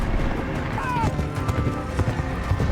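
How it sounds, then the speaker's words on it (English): Horse galloping and neighing in a fantasy TV drama battle scene: hoofbeats beneath a dense, loud score and effects, with a brief whinny rising through the mix. "That horse is struggling."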